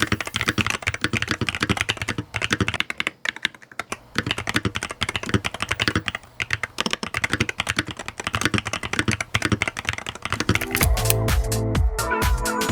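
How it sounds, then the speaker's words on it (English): Rapid typing on a MADLIONS NANO68 keyboard, dense clacking keystrokes in quick continuous runs with brief pauses, close and clear, ending with a heavier flurry of presses. "if you want to hear what the switches sound like, here's a really quick sound test."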